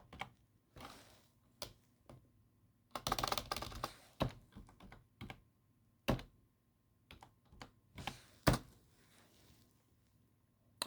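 Someone types a password on a computer keyboard, producing quiet, close, irregular bursts of key clicks with short pauses between them, and no voices.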